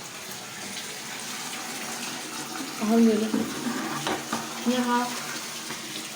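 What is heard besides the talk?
water pouring from a tap for a bath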